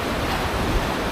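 Large ocean waves surging onto a shore, a steady broadband wash of surf with wind noise, loud and close throughout, no voices.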